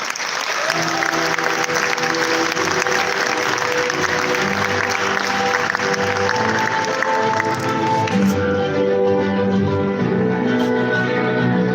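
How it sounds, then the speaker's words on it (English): Audience applause at a fellowship award ceremony, broad steady clapping from a large crowd with music-like tonal layers running beneath it throughout. "Let's give her, please, a very big hand of applause"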